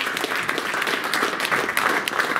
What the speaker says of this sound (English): let's just give our video team a round of applause too for setting this all up